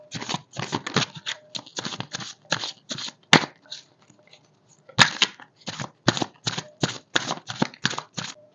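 Tarot cards being shuffled by hand in quick riffling bursts, a rapid run of crisp flutters that pauses briefly midway and then resumes at a steady pace.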